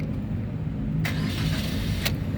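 A 2016 Suzuki Ertiga 1.4 GL automatic starting up, two short bursts of cranking over a low, steady engine rumble close by.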